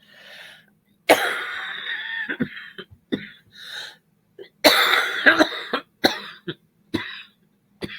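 A person coughs repeatedly in short, harsh bursts with throat-clearing sounds between, close and loud, separated by brief quiet gaps.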